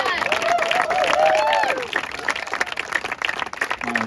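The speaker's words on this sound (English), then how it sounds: "Let's give him another round of applause." Audience of about a hundred people at a ranch speaking event applauding and cheering, a dense burst of clapping with excited voices and whoops that gradually thins out toward the end.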